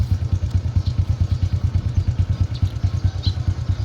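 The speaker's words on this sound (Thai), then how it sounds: "นั่งมอเตอร์ไซค์เลย" A motorcycle carries riders along a rough rural road, its engine a loud, close, steady throbbing with rhythmic pulsing and occasional faint rattles over it.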